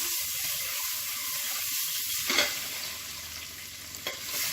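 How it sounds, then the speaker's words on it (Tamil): Boiled eggs stirred in a frying pan for a lunch-box dish: a steady sizzle-and-hiss of frying fills the clip, with soft scraping stirs and a couple of louder spatula knocks against the pan. "இப்போ இந்த முட்டையை வந்து இதில் சேர்த்துக்கலாம். பரட்டி விட்டுக்கலாம்."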